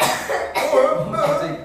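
A person coughs several times in quick bursts in a classroom, close and fairly loud, with no talking around it.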